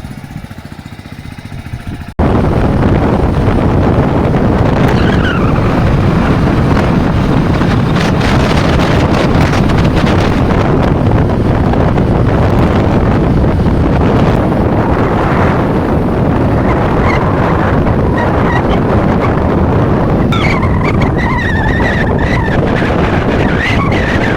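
Strong wind at the seashore at night roars and buffets nonstop, loud and close, with faint whistling tones rising at times.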